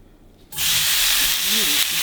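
Pork fat drops into a wok over low heat and starts sizzling: after a quiet moment it breaks into a sudden, steady, close hiss and crackle of frying that keeps going, with a faint squeak in the middle.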